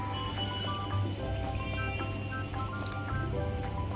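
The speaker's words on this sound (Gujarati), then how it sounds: "હવે આપણે આમાં પાણી એડ કરીશું." Soft wet squishing and dripping as water is poured and worked into a thick batter, quiet and close, with a faint steady hum behind.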